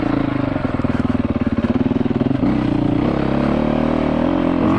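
A dirt bike's single-cylinder engine pulses loudly and close while climbing rough enduro terrain, chugging steadily, then shifting to a smoother, higher drone partway through.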